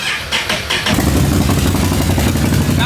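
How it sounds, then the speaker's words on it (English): A 2023 Can-Am XXC mud bike engine cranks with a few sputtering pulses, then catches and settles into a loud, steady, throaty exhaust rumble up close. "let's start her up."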